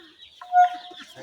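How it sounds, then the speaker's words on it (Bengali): A single short, high peep from duckling or broiler chicks offered for sale at a poultry stall, faint and close, with light background noise. "বাচ্চা কেবল হাঁসের বাচ্চা, ব্রয়লার মুরগির বাচ্চা, হাঁসের বাচ্চা"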